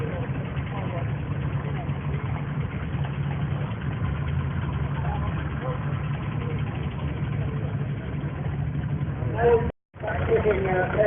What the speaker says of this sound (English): 634 here. It's one of several international tractors that we've got.